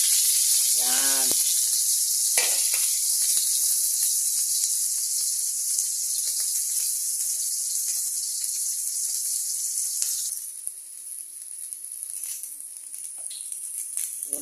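Garlic dropped into hot oil in a pan sizzles with a continuous loud hiss, a few clinks and a brief voice early on, easing slightly toward the end.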